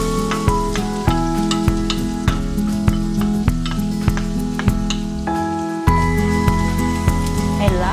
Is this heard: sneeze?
no